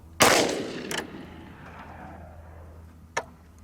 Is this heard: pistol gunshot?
yes